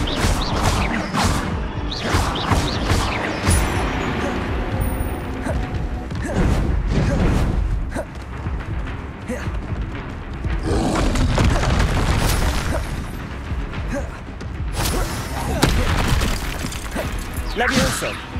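Magic spell effects in the Hogwarts Legacy video game: repeated loud booms, crashes and whooshes fire in quick bursts, with a voice calling out incantations between blasts.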